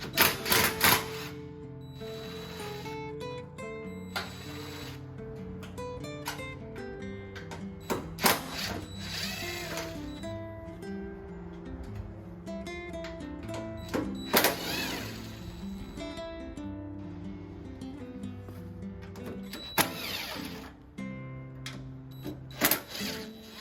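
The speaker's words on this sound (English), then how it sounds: "So we're just gonna basically take these latches out" Tailgate latches come off a 1975 Scout II with hand tools, heard as bursts of metallic clicking and ratcheting separated by short pauses, close to the microphone and irregular in rhythm.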